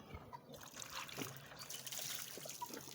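Water poured out for ducks and rabbits in hot weather, a trickling, splashing pour that runs steadily and close by for a few seconds, with no talk over it.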